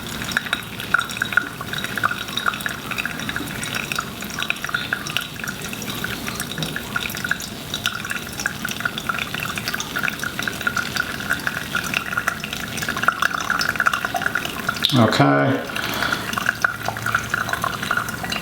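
Hot water poured slowly over coffee grounds in a pour-over brewer set on a Timemore Black Mirror Basic Plus scale, a continuous close trickle and drip, with a brief spoken word near the end.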